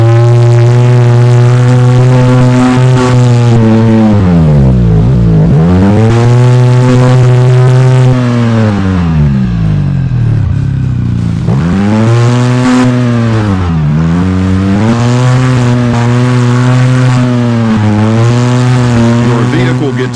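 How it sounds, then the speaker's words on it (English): A game off-road vehicle churns through mud in Overpass, its engine whining and surging in repeated rising and falling revs, loud and close throughout. "Now, let's try driving over mud. It'll be harder to accelerate and turn."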